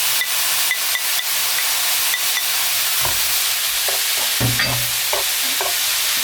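Carrots and fish cake stir-fried in a hot pan, a steady bright sizzle and hiss with intermittent scraping and clacking of a utensil stirring the pieces, close and continuous.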